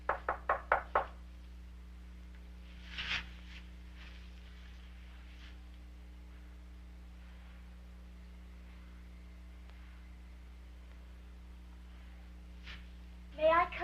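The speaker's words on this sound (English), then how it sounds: "she finally gained enough courage to knock on my" Knocking on a door as a cold little girl seeks shelter: a quick series of four or five sharp raps, then a faint tap later and another burst of knocks near the end, over a low steady hum.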